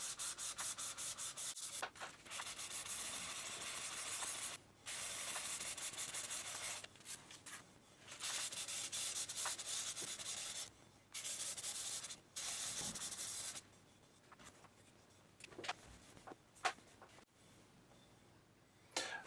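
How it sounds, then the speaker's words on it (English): Worn plastic key from a Roland D-70 keyboard being rubbed smooth by hand, a close, continuous scratchy rubbing in long strokes broken by brief pauses, fading to softer intermittent rubs near the end. "you can see the plastic being worn away by rubbing this"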